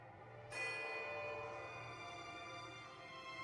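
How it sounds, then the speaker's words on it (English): A small silver bell rings in the fantasy video game Pillars of Eternity 2: a single clear struck tone with long shimmering overtones that sustain and slowly fade, heard alone and fairly faint. "behind you, comes an insistent ringing"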